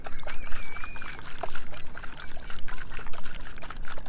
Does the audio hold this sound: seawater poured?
yes